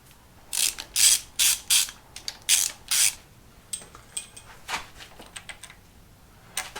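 A socket ratchet turns nuts on a vintage 1800cc BMC B-series engine, giving several quick bursts of close, crisp ratcheting clicks, then sparser clicks and taps.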